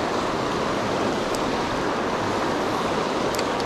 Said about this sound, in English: Raging current in here.